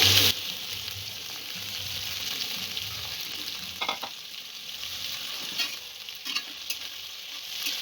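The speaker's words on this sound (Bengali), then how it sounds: "টমেটোটা একটু নরম হওয়া পর্যন্ত ভাজবো" Tomato and vegetables fry in a pan for a rohu fish curry with onion greens and eggplant, a steady close sizzle punctuated by a few scraping stirs of a spatula.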